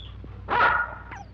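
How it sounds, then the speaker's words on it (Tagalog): A large dog gives a single loud bark over a low steady background hum, followed by a fainter short yelp. "Ang laking aso nito!"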